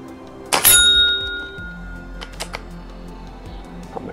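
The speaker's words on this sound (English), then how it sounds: "That makes a lovely bell sound" A rifle shot strikes a steel bell target, giving one sharp crack followed by a bright, sustained metallic ring that slowly fades, with a few small knocks and clicks afterward.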